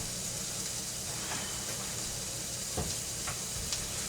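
Onions and garlic frying in a pan with a soft, steady sizzle and hiss, fairly quiet and continuous, with a few faint clicks of stirring and no talking.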